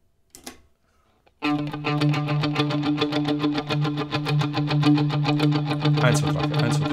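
After a short pause, an electric guitar strumming pattern kicks in loud and sustained, run through two echo delay effects that fill the strokes into a dense rhythmic groove.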